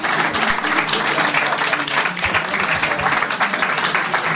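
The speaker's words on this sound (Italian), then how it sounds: "Io farei un bel applauso a tutti i pittori che hanno vinto" At a national painting competition awards event, the audience claps for the painters with a sustained, fairly loud applause. Individual claps stand out in an uneven, lively rhythm.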